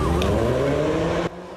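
A white sedan in Banqiao speeds off from a police check: a loud, close engine roar with steady layered tones that holds for just over a second, then cuts off sharply, leaving a faint tail. No one speaks.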